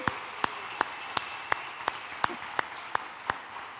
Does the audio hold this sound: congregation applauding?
yes